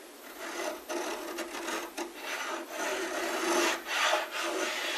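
A router plane scrapes and rasps along a wooden dado, cleaning it out for a bombe secretary: close, dry, uneven scraping strokes that come in short bursts and continue without speech.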